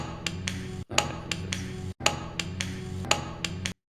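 A plastic toy boat striking a hard floor: a series of sharp, close clacks and taps in quick irregular bursts, broken by brief silences, with no voices.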